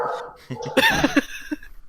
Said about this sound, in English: the neighbor's dog is barking